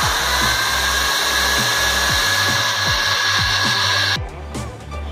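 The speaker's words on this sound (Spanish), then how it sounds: "Perforamos entonces ya los dos orificios." An electric drill whines steadily and loudly as it bores holes through the frame of a small balance-scale model, with repeated low knocks underneath, then cuts off and leaves quieter handling sounds.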